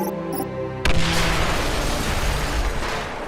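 An explosion in a Star Wars Battlefront 3 game scene bursts suddenly after a short tonal stretch, then a loud rumbling roar and crackle hangs on and slowly fades.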